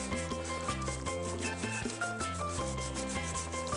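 A fine kitchen grater rasps steadily against food while a chicken-and-prawn dish is prepared, a soft continuous scraping heard faintly under background music.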